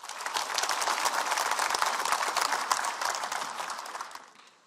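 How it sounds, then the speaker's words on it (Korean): Sustained applause from an audience at a policy seminar in Gwangju, welcoming a speaker to the stage: dense, steady clapping of a full hall for about four seconds, tapering off at the end. "힘찬 박수로 맞이해 주시기 바랍니다."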